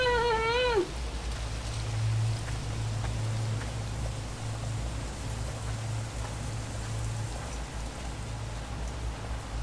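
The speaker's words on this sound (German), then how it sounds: "Aber schön, wie es nur aufs Haus regnet" Steady rain drumming on a house roof in the horror video game Pineview Drive, a constant soft hiss that fills the whole stretch after a brief musical tone at the start.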